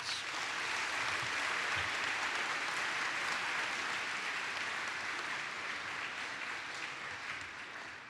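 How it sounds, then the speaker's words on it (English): Sustained applause from a large crowd at a high school graduation, a dense wash of clapping that holds steady and tapers slightly toward the end. "please give these parents, guardians, and grandparents a well-deserved round of applause"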